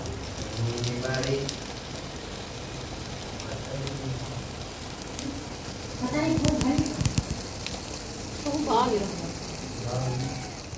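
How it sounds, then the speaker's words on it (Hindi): Aloo tikki patties fry in oil over a low flame, a soft steady sizzle with light crackles throughout while someone talks over it. "बहुत ही धीमी आंच में पकाई थी टिक्की हमारी और ये देखिए पक कर तैयार हो रही है"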